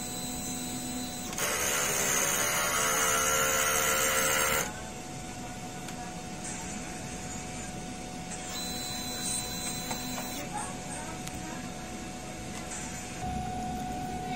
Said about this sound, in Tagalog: Mag-head clean tayo. Pindutin natin yung clean, strong heads.